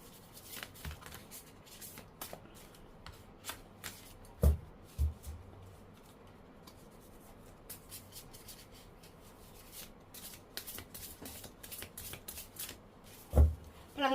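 Tarot cards are shuffled by hand, a steady soft riffling and flicking that runs throughout, close and fairly quiet, with a few sharper taps and thumps of the deck and no talking.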